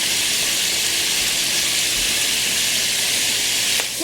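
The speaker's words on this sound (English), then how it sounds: "gonna start sizzling up the steak." Steak sizzles loudly in a pan with leftover bacon grease, a dense continuous frying hiss that stays steady throughout and drops slightly at the very end.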